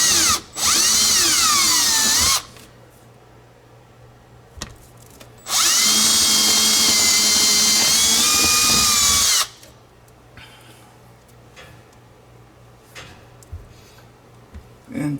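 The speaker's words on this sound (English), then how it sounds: "I can see exactly where I need to drill holes for wires" Power drill boring holes for wiring in a model railway layout baseboard while a fiddle yard is added, two loud sustained bursts of high whining drilling with pauses between, and quiet background hum after.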